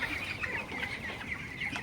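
A faint, steady chorus of broiler chickens clucking and chirping in a farm shed during hot weather, continuous and distant with no talking.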